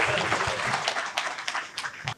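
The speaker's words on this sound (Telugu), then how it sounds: "వారిని సాధారణంగా చప్పట్లతో వేదిక మీదకి ఆహ్వానిద్దాం." Audience applause welcoming Rakesh, Mr. India 2025, onto the stage at a youth talk event, a steady wash of clapping with a few sharper claps standing out, fairly close and moderately loud.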